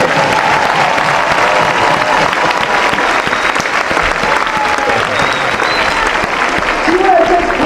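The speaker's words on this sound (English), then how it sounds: "Start clapping if you went a lot further." A live audience claps loudly throughout, a dense, continuous burst of many hands close by with crowd noise and voices mixed in under the applause.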